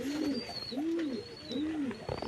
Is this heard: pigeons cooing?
yes